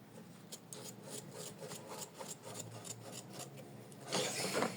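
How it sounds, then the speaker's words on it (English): Scissors trimming felt from the sides of an in-the-hoop bookmark. Faint, close, repeated snips and rasping cuts form a steady rhythm, with a louder rustle at the end. "Next, we need to trim our felt from the sides."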